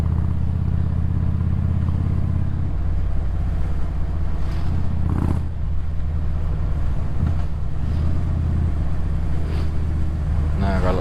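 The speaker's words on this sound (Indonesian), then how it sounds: "Kalau suaranya knalpot Harley ini memang sedikit kencang" A Harley motorcycle's loud exhaust drones continuously at full throttle on an open-road ride, heavy and close with strong wind buffeting across the microphone, and a voice talking faintly over it.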